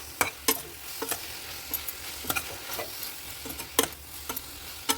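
Coriander-mint paste with turmeric and salt fries in a pan, giving a steady soft sizzle broken by sharp, scattered scrapes and taps from a stirring spoon, close and alone.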